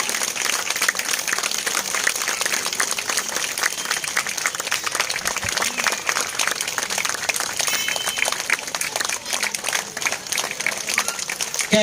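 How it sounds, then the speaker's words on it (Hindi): A crowd at a Gondwana Vijay Utsav festival gathering breaks into sustained, dense applause, loud and steady throughout with scattered cheering mixed in. "दर्शक बंधु जोरदार तालियों से स्वागत वंदन करते रहेंगे।"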